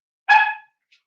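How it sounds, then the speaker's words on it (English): A single short, clear dog bark heard up close indoors, followed by silence. "Let me go get my dog because he's barking at my son who came home from work."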